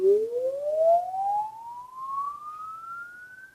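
A Volkswagen MK7 Soundaktor runs its output diagnostic test, producing a loud synthetic tone that sweeps steadily upward in pitch like a siren over a few seconds, heard alone with no talking.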